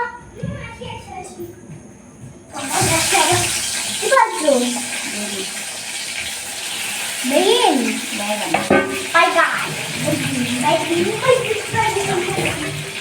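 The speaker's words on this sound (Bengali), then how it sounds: "এখন হচ্ছে বেগুন ভাজা" Eggplant slices frying in a pan, with a loud hiss and sizzle that breaks in suddenly after a quiet opening and then continues steadily, while people talk over it throughout.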